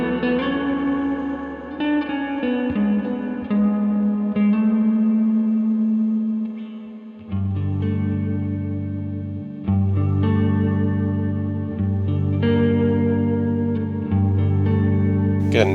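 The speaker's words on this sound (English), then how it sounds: "Get a nice, really washed out ambient sound, which I personally love." Electric guitar chords through a Keeley Caverns V2 pedal with reverb and delay maxed out, notes smearing into a washed-out ambient swell that builds and shifts over several seconds.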